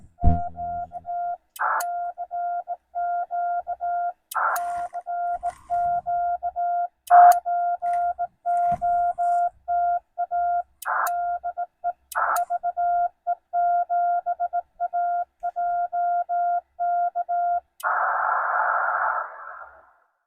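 CW Morse code tones from a ham radio during a Parks on the Air activation at West Shawnigan Provincial Park: a clear, steady keyed tone in rapid dots and dashes, with a few clicks, ending in a short noisy burst.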